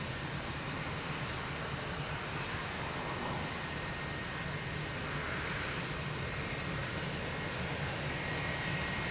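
A plane takes off from runway 02 at Lisbon Airport, its engines a steady, loud, broadband roar that holds unbroken for the full stretch with no voices over it.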